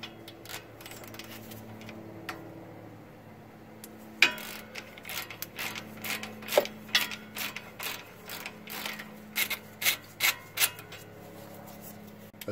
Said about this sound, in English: now we want to loosen the two caliper bracket bolts